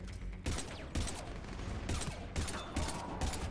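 Gunfire from Mass Effect Legendary Edition comes in repeated bursts of rapid shots, roughly seven loud volleys in a choppy rhythm over a continuous game background with no voices.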